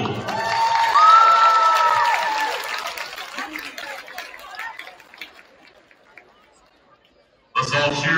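Crowd at a women's varsity high school basketball game cheers and applauds loudly, the roar fading over several seconds before a fresh burst of cheering erupts near the end.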